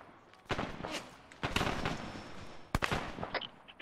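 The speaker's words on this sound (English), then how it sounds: "they're shooting from the west" Enemy gunfire crackles in an Arma 3 combat game, several sharp shots spread unevenly across a few seconds over a background of distant battle noise, with faint voices.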